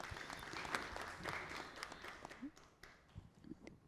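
Applause from a studio audience on a Kannada music show: a faint, scattered patter of claps with uneven peaks that thins out toward the end.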